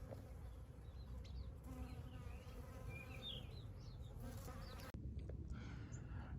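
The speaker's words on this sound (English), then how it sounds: "with all these yellow flowers around here, there are just hundreds and hundreds of bees" Hundreds of bees buzz among yellow flowers outdoors, a steady dense insect hum running throughout with a brief pause near the end.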